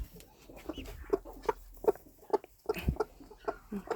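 A hen clucks in a quick, steady series of short close calls, with faint rustling beneath, on a small farm where broody hens hatch goslings and ducklings.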